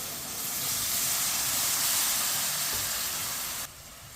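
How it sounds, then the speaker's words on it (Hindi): Water poured into a pot of cooking masoor dal, with a steady loud sizzle and hiss of steam that runs almost continuously and then drops off sharply near the end. "ये 1 गिलास पानी डाला मैंने।"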